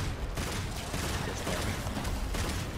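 Rapid shooting in Devil May Cry 5, dense continuous bursts of gunfire with a busy mechanical clatter filling the short stretch at steady loudness, no talk over it.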